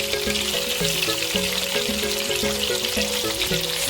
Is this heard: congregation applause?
no